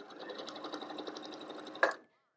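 A sewing machine stitches steadily along a line sketched on fabric, a fast even whirr lasting about two seconds, then a brief sharp clunk as it stops.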